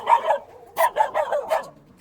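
A handful of sharp dog barks in quick succession, close by, with short gaps between them.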